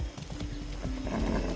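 Horse hooves clip-clop steadily at a riding pace in Far Cry 6, close and continuous, with a whinny mixed into the busy game soundscape.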